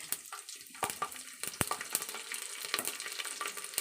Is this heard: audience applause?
no